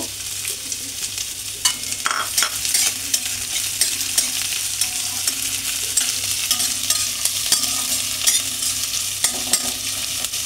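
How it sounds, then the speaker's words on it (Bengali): Chopped onion, ginger and garlic fry in a pan with a constant close sizzle, while a spatula stirs and scrapes in frequent short strokes throughout. "এবার আদা কুচি আর রসুন কুচিটা একটু ভাজা হয়ে এলে পেঁয়াজ কুচিটা পুরোটাই দিয়ে দেব।"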